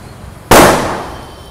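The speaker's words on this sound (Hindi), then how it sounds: "भाई यहाँ पर दिन में ही पटाखे फोड़ लेते हैं" A single loud firecracker bursting outdoors during Diwali, a sharp nearby bang followed by a long decaying rumble, with no voices.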